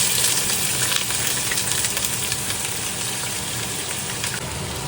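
Sliced onions dropped into hot oil with fennel and cardamom for chicken biryani, producing a continuous moderate sizzle and frying hiss that holds steady and fades slightly toward the end.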